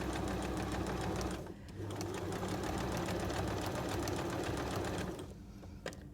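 Sewing machine stitching an appliqué circle with variegated yellow thread, a steady close whirring run that pauses briefly, resumes, then stops near the end.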